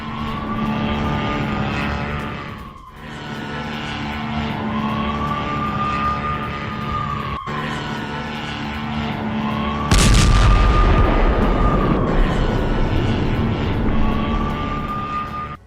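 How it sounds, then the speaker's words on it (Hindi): A drone over Gaza, used by Hamas against IDF soldiers, drones steadily with a wavering, rising and falling engine pitch, then a sudden loud blast-like burst two thirds through, with the engine continuing over heavy rumble; no voices. "हमास ने इस हमले का वीडियो बाकायदा जारी किया है, लाइव ड्रोन अटैक।"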